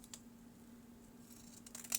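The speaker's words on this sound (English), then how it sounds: "if you have some really nice scissors" Scissors snip through paper for a handmade tear-away notebook, a couple of short crisp cuts close by in an otherwise quiet room.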